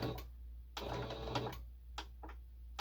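A sewing machine stitches through paper journal cards in several short, quiet bursts separated by brief pauses.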